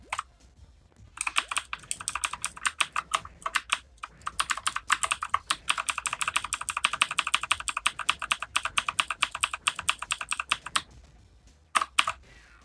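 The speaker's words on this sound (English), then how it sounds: "I have not played with a keyboard and mouse in forever" Rapid clicky keystrokes on a computer keyboard, coming in dense close bursts with a few short pauses, a quick isolated flurry near the end, no voices.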